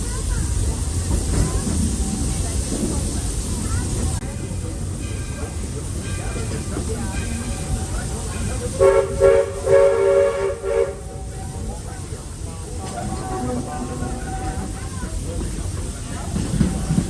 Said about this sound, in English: I love it when the train and the steamboat go together and start singing back and forth.